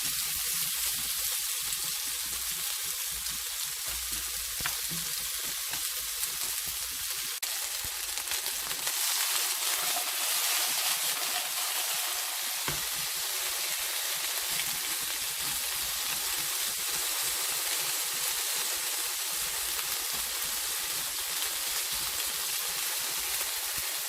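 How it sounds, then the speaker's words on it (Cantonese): Potato pieces fry in oil in a wok, giving a steady, moderately loud sizzle and crackle throughout, with occasional stirring and no voices. "咁原鑊啦，我哋煎一煎嗰啲薯仔。"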